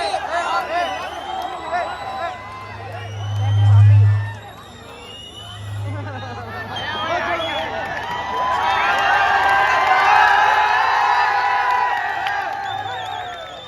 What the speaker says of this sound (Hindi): भाई तालियां भरपूर होनी चाहिए